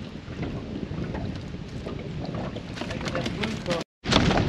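Steady wind buffets the microphone on a dock during crappie fishing, a constant broadband rush with a brief dropout near the end before the gusting resumes.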